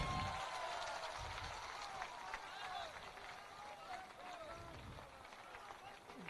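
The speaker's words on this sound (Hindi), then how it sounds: "जोरदार ताली बजाइए।" Crowd applause and cheering at a political party launch rally in Bihar as the acting party president is welcomed, steady and dense throughout with voices mixed into the noise.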